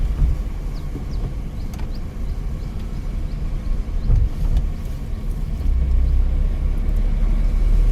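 A car driving in third gear during a driving lesson produces a steady, close, low engine rumble that holds continuously and grows slightly fuller toward the end.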